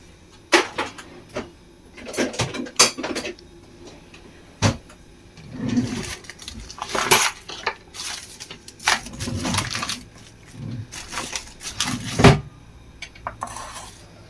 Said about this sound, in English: So we'll tip those leftover vegetables into a pan.